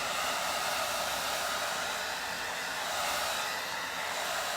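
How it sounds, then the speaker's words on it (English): A hair dryer on its cool setting blows with a steady, continuous whoosh, running close and unbroken throughout with no voices. "Now I have this hair dryer on a cool setting"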